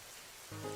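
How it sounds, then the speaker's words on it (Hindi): Heavy rain falls steadily outdoors on a sudden evening downpour, a dense hiss of drops that swells slightly louder toward the end, with no voices. "बाहर अचानक बहुत तेज बारिश शुरू हो जाती है"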